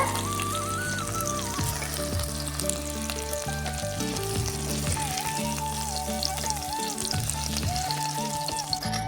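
Okra sizzles in hot oil in a pan with a loud, continuous frying crackle that holds steady throughout, over a faint tonal background.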